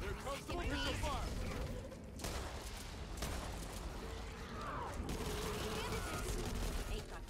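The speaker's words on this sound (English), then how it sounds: "There comes the missile fire." Heavy missile and gunfire barrage in Back 4 Blood, with continuous loud blasts and mechanical rattling layered under people talking.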